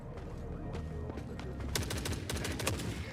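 Gunfire from a semi-automatic AK-50 rifle chambered in .50 BMG in the video game The Forever Winter, a rapid string of loud, sharp shots in close succession, denser toward the end, with a voice faintly underneath.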